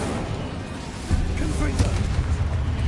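A fire spell cast in the video game Hogwarts Legacy on PS5 lands as a sudden low boom about a second in, then a sustained rumbling roar with crackle that holds at steady loudness to the end.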